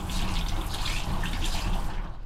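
Water runs steadily from a washroom tap aboard an old Polish express train, a continuous close splashing hiss with no voices.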